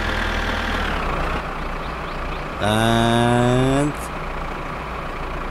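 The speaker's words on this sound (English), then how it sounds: "Now we just back up the tractor" A tractor engine in the game My Summer Car, reversing on Very Hard permadeath, runs at a steady low idle throughout. Partway through, a loud rising harmonic whine swells for about a second, then drops back to the rumble.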